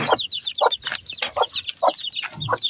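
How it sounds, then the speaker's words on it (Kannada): A flock of native country chickens clucks loudly and close by as it is let out, with quick, repeated squawks and cackles coming in an uneven, busy rhythm. "ಸೊ ಬನ್ನಿ ಎಲ್ಲ ಕೋಳಿಗಳನ್ನ ಹೊರಗಡೆ ಬಿಡೋಣ."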